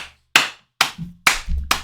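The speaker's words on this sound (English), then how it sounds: "Round of applause to Kirsten" A few distinct, sharp hand claps spaced unevenly, close and dry against near silence, with a faint low murmur between them.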